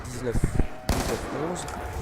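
Two upgraded Colt M1911 pistols fired akimbo in Black Ops 2 zombies mode, heard as a few rapid, punchy shots and a sharp blast amid game noise, with someone talking over them.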